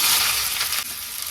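Onions dropped into hot oil, frying with a steady, loud broadband sizzle that holds throughout a brief moment, slightly easing near the end.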